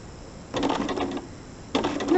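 Sewing machine running short bursts of straight stitching on an applique, two quick whirring runs of rapid needle clatter separated by a brief pause, close and fairly quiet.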